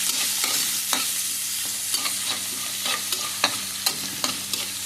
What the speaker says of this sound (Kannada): ಹೈ ಫ್ಲೇಮಲ್ಲಿ ಆದಷ್ಟು ಈರುಳ್ಳಿ ಬೇಗನೆ ಫ್ರೈ ಆಗುತ್ತೆ